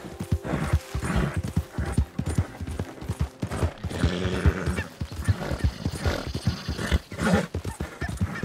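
Galloping horse in a video game, hooves clip-clopping in a steady rapid rhythm close by, mixed with other game noise and rustling.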